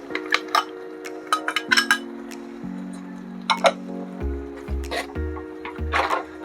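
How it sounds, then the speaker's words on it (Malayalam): A spoon clinks and scrapes against a pan as ground coconut paste is stirred into sweet jaggery pachadi for a Kerala sadya, with scattered metallic taps over a steady low hum. "അരപ്പൂടെ ചേർത്ത് നന്നായിട്ടൊന്ന് മിക്സ് ചെയ്തെടുക്കുക"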